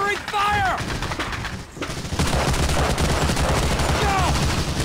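Covering gunfire in Medal of Honor Allied Assault: dense, rapid bursts of rifle and machine-gun shots crackling continuously, close and loud, with shouted voices mixed in near the start and end.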